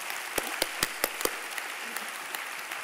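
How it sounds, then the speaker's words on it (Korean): Sunday church congregation applauding, a steady wash of many hands clapping with several sharp, distinct claps standing out near the start, fairly quiet and continuing to the end. "박수 한번 해야 돼."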